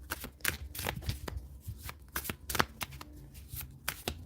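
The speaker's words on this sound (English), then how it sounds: "let's get another card for them" Tarot cards being shuffled by hand, a rapid run of crisp riffling and slapping bursts, close and clear with no talk over it.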